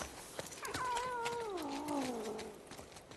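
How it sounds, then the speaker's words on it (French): Cat in the video game The Last of Us Part II letting out a long, drawn-out yowling meow that bends downward in pitch, moderately clear over faint background noise. "Mais il va se calmer ce chat par contre?"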